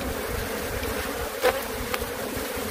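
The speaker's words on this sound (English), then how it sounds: "Now watch for bees inside your net and everything else, because these guys are going nuts." Dense, agitated buzzing of many killer bees around a hive being removed from a tube swirls continuously nearby, with a couple of individual insects zipping close past.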